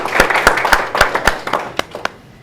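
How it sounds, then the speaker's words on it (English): A small audience at a tiny-home building event gives a brief round of applause, sharp distinct claps close by that thin out and fade within a couple of seconds. "Give yourself a big round of applause"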